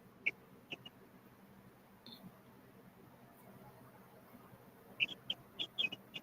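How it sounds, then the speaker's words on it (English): Chicks kept in a fish tank chirping, a few thin high peeps in short scattered bursts, faint against a low room hum, with a cluster of calls near the end. "Sounds like the birds are out, unless that's the chicks."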